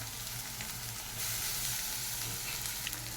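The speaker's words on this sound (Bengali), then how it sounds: "রসুনটা বেশ ভালোভাবে ভাজা হয়ে গেছে" Garlic paste fries in hot oil with a continuous close sizzle and hiss that swells briefly midway, with a faint low hum underneath.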